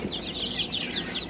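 Poultry pen with chickens, quail, bobwhite and guineas, giving a brief burst of high chirps and clucks over soft flapping and rustling, moderately close, with no talking.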